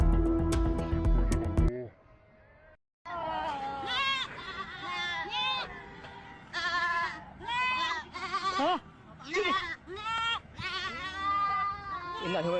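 Goats bleating repeatedly, scattered across a toll road after a pickup truck crash, with loud overlapping calls from several animals close by; a brief loud burst of other noise comes first, and then the bleats continue steadily.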